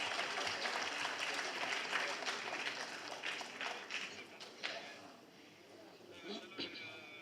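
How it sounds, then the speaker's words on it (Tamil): Applause breaks out at the Kumki 2 trailer launch, a crowd clapping loudly at first, then thinning and tapering into scattered claps, with people talking underneath. "நல்ல கைத்தட்டல் ஃபார் சரண் சார்."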